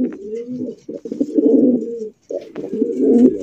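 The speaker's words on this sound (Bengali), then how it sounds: "সাদা দবদবা বোম্বাই কবুতর, 100 কোয়ালিটি আছে" White Bombay pigeons cooing up close, loud repeated throaty coos in runs with brief pauses, no voices.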